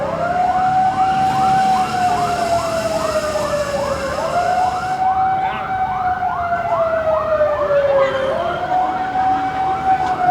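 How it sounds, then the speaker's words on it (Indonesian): A loud mosque siren wails steadily nearby, its pitch rising and falling in long repeated sweeps, with faint traffic underneath. "Waduh, raungan sirene nih."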